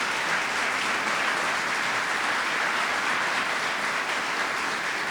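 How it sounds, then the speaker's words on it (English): Audience at an award ceremony and reception applauding, a dense, steady wash of many hands clapping that holds at an even level throughout, with no voices over it. "How about a round of applause for that video?"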